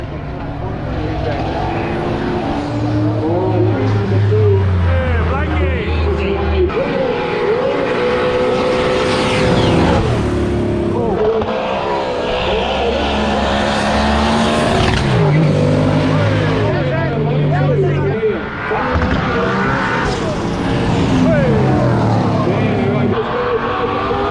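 Race cars at a roll racing event roar past one after another, engine notes rising and falling as they pass, with loud mechanical whine throughout and occasional tire noise.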